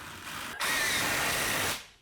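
A power drill drives a screw into a wooden board in a shower build, a short whirring burst of just over a second, close and moderately loud.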